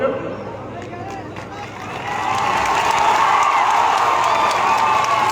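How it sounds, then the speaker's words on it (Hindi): A crowd at a public talk breaks into clapping and cheering that swells after a couple of seconds into a dense, steady roar, with voices mixed in. "ये ताली बजाने वाली क्या बात है?"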